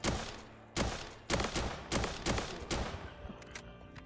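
Gunfire from weapons in the Roblox game Reign Fall, a string of loud, close shots about every half second in uneven bursts, each with a sharp crack and a short fading tail, no talking.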